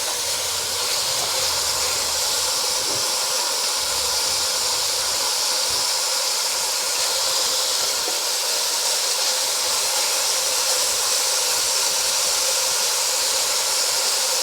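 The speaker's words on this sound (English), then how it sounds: "Listen to that sizzling goodness." Meat sizzles in a frying pan during a carnivore cookup, a steady broadband hiss that carries on evenly throughout with no one talking.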